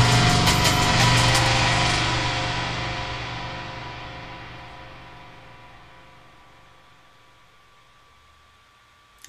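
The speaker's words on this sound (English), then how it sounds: "there's our filtered drums and reverb" A dense, washed-out filtered drum texture with a long reverb tail that gradually fades toward silence, played back in Logic Pro 8, heard alone without talk.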